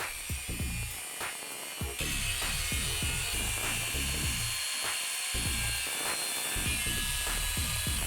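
Bike fork tubing for a kid's push bike is cut along the edges of tape. A busy, rhythmic run of grinding, whirring cuts repeats close up in short bursts.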